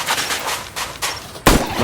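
Gunfire from a Smith & Wesson Model 60 revolver in a wilderness survival video game, with a few soft earlier pops, then one sharp, loud shot near the end.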